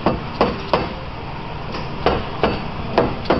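Sharp hammer taps seat a part onto a Ford Focus front-wheel-drive differential case, about eight close metallic knocks arriving in irregular pairs and singles.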